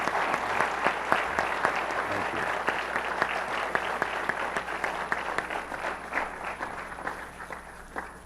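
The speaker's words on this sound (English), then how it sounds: "if y'all will join me in just giving a round of applause to the McNairs for being here" Sustained audience applause for the McNairs at an on-stage conversation event, a dense steady patter of many hands clapping that carries through the whole stretch with a few faint voices beneath.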